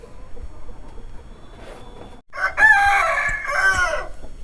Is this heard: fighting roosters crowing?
yes